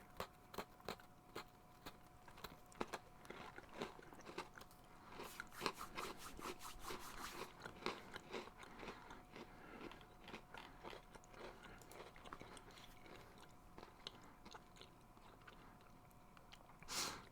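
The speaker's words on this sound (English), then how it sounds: "Means I can actually eat my my thing for a moment without having to worry about the crunching sounds." A crunchy snack is chewed close up in a quiet room, with a steady run of crisp bites and crunches, busiest in the middle stretch and easing toward the end.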